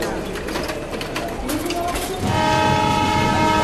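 Trains at a busy Mumbai railway station: loud rumbling rail traffic and station bustle, with a sustained horn-like tone rising near the end, people talking in the background.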